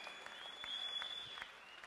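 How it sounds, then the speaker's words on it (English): A crowd at a Muay Thai fight night gives a standing ovation, a faint, distant, continuous rush of clapping with thin whistles over it, lasting under two seconds. "A standing ovation from the crowd for Brad Riddell."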